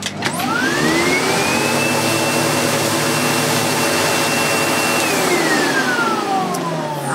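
A Sebo Automatic X4 Boost vacuum cleaner, just fitted with a new cable and unclogged, starts up with a rising whine, runs loud and steady for several seconds, then winds down. No one speaks.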